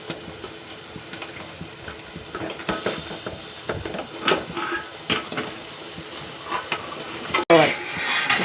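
Fish pieces go into a pot of simmering batter-thickened fish curry, giving soft splashes, clinks of a utensil against the pot and a faint hiss, with scattered irregular knocks and a sharper clatter near the end.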